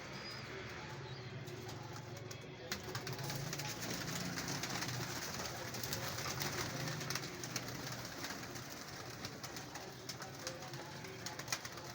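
Pigeons cooing on a rooftop, soft repeated coos set in a steady, fairly faint outdoor wash of ambient noise that runs throughout.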